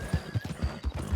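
Horses clop along with quick, uneven hoofbeats close by and a whinny rises over them, in the video game Red Dead Redemption 2 on the way to Valentine.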